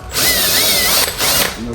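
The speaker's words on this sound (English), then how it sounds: "Now we're trying to drill in because it's not even the right size drill bit." A power drill with an undersized bit bites into a storm door, whining loudly in two close bursts separated by a short pause, the motor pitch wavering as it loads.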